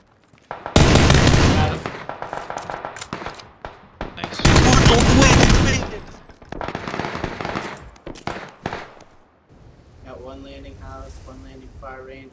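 Bursts of rapid automatic gunfire from the game PUBG crackle loud and close in two long volleys, with scattered single shots between and a voice talking near the end.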